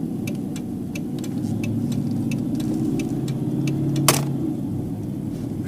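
A Dodge Charger cruises along the road just after a transmission fluid change, with a steady low engine and road hum and a faint regular ticking over it. A single brief click occurs near the end.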